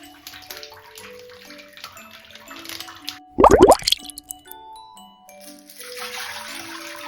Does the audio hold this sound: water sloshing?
yes